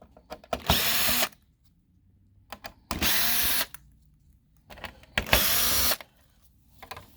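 Screws backed out from around a display with a power drill, three sharp bursts of whirring, each about a second long, separated by pauses with small handling clicks.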